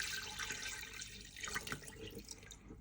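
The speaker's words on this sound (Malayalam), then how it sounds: "ഇനി നമുക്ക് ഇതിലേക്ക് വെള്ളം ഒഴിക്കാം." Water is poured into a small portable washing machine, giving a steady faint splashing and gurgling rush that continues throughout with no talking.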